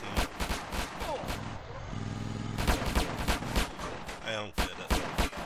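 Gunfire in the video game Grand Theft Auto: San Andreas, with repeated loud gunshots and bursts of automatic fire cracking in quick volleys, a vehicle engine humming between them.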